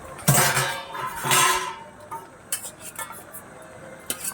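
Shrimp with vegetables and Malabar spinach is stirred in a pan: a few bursts of scraping and metal clatter with faint clinks over a low sizzle, close by and without speech.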